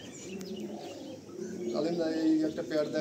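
Pigeons coo and murmur in a pigeon loft, soft repeated throaty calls rising louder toward the end, heard close alongside some human voice in the background.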